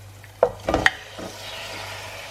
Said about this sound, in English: now what we're going to do is add in the meat